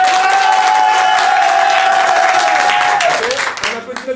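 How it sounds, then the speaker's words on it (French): A loud improv-show crowd at an impro festival claps and cheers for Peaky Blinders, a dense roar of hands with whoops and a sustained whistle, tapering off near the end. "un applaudissement pour Peaky Blinders"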